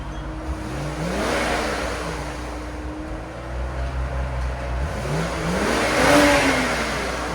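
Stock-exhaust 2012 BMW 535i with its 3.0L inline-six revving twice, each rise climbing and falling smoothly with a soft, quiet tone, heard close with no one talking.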